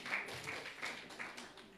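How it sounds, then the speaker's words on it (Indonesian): Soft applause from a church congregation during an Indonesian-language sermon, quiet, fairly distant clapping with a few sharper claps standing out over about two seconds. "Beri tepuk tangan buat Tuhan Yesus"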